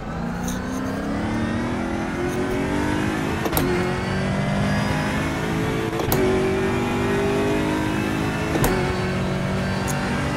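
Race car engine in the RaceRoom video game accelerating through gears, a loud continuous rising whine with sharp shift breaks every few seconds, close and alone.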